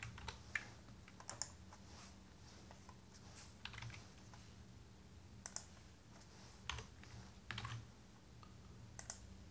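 Someone types CSS code on a computer keyboard, with a steady run of light, close key clicks and occasional sharper taps over a quiet room hum.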